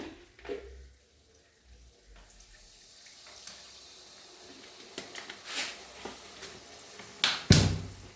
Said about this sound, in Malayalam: ഇനി കുറച്ച് വിനാഗിരി ഒഴിക്കാം.